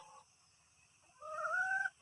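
A young hen gives a short call, then after a pause a longer, rising squawk, close by with no other sounds.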